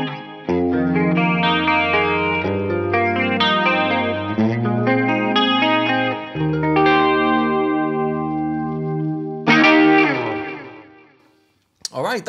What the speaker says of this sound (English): right, that's the flanger.